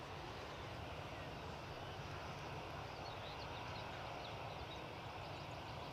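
Faint, steady jet roar of a Lufthansa airliner on its takeoff roll at Edinburgh, a broad, even rumble heard from afar with no talking over it.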